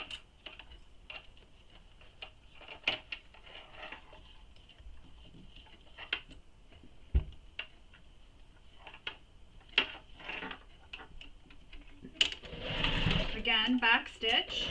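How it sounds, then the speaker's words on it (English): A sewing machine stitches a belt bag in short, quiet bursts of rapid ticking between pauses, with a brief louder whirring run near the end as the seam is backstitched. "I'll be able to sew it just like this."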